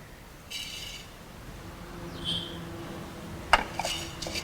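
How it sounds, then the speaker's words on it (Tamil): Black pepper dry roasts in a pan, giving faint scraping and light metallic clinks of a utensil against the pan over a soft background hiss, close and without talk. "அடுத்தது நாம் வறுக்க போகிற பொருள் மிளகு"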